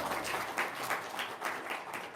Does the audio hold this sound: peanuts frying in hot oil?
no